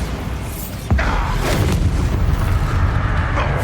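A Bombarda spell detonates in the game Hogwarts Legacy, a sudden loud impact near the one-second mark followed by a sustained, rumbling explosive roar with crackling bursts.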